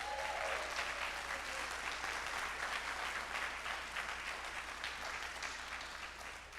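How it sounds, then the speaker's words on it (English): Audience applause fills a symposium hall after an environmental justice keynote, a steady, dense clapping that holds at an even level for several seconds before tapering slightly. "Let's give them a round of applause"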